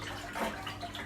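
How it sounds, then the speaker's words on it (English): Cold water poured into a homebrew kit fermenter, a short, steady splashing rush that swells briefly in the middle, close and alone. "And just pour this cold water here."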